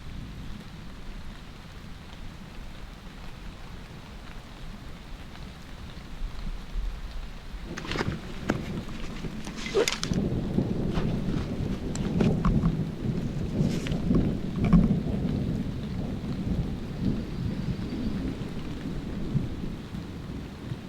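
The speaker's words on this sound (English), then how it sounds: "I am now hearing quite a bit of thunder from the north, and it concerns me." Thunder rolls and rumbles from the north over a steady patter of rain at a campsite, quiet at first and then swelling into louder, prolonged rumbling with sharper cracks from around the midpoint.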